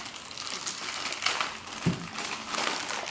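Packaging around a boxed Fluance Ai41 powered bookshelf speaker being ripped open: steady close crinkling and crushing of wrapping material for a few seconds, with a couple of sharper crackles partway through and no talking.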